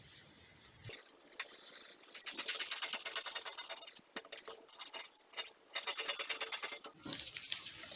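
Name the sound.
cutting out a paper dress pattern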